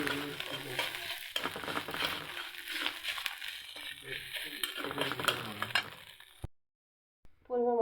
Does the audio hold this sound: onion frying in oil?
yes